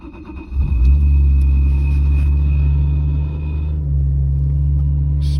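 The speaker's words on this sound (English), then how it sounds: "Apologies for the rattling." A 1997 Toyota Mark II GX100 idles with a deep, steady low drone and a faint rattle from its twin-disc clutch, following a brief starting surge up close.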